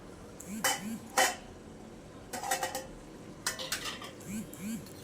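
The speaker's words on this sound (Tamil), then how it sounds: "கலந்து விட்டுட்டு எறா வேகிறதுக்காக ஒரு தட்டை போட்டு மூடி வச்சிடலாம்" A plate is set down as a lid over a pan of prawn curry, giving several sharp metallic clinks and clatters in small clusters, fairly close and clear over a quiet background.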